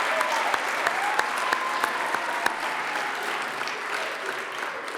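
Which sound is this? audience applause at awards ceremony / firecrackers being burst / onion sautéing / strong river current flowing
audience applause at awards ceremony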